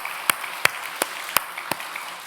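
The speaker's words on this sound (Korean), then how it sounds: "우리 박수 한번 하겠습니다." Sparse, evenly spaced single claps echo in a church sanctuary, about five distinct hand claps at a slow steady pace, moderately quiet with a faint room hum underneath.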